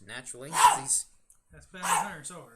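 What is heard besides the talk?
dog barking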